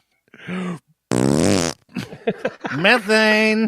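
A loud, close fart with a long buzzing rumble sounds once in a casual conversation. Talking comes before and after it.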